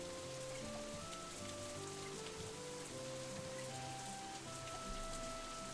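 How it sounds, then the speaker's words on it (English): Steady rain falls in the Katawa Shoujo video game, a soft, constant hiss of drops under a gentle background music track, with no talking. "The rain just keeps falling,"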